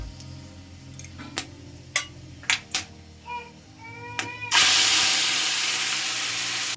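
Taro leaves dropped into hot oil with two bay leaves, five-spice seeds and dried chilli burst into a loud, steady sizzle after a few sharp pops and taps, the hiss holding strong to the end.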